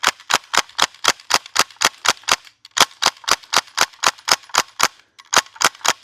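A VFC PPSh gas blowback airsoft rifle fires rapid full-auto bursts, three strings of sharp, loud, evenly spaced cracks separated by brief pauses, close and with no talk.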